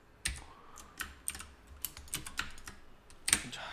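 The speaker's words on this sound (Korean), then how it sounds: "레이어 컨트롤 시프트 N 눌러서 레이어 새로 만드시고," Keyboard shortcut keys tapped on a computer keyboard while working in a design program, a burst of about a dozen crisp, close clicks in uneven rhythm, with no talking.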